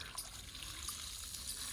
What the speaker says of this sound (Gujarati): કેવું ગાર્ડનમાં પાણી પાય